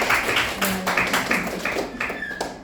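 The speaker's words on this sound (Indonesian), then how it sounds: "Boleh kasih tepuk tangan?" An audience at a school presentation by prospective teachers in Palembang applauds, a short burst of scattered, tapping claps with a few voices murmuring underneath, fading out toward the end.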